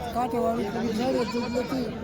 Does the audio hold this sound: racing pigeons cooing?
no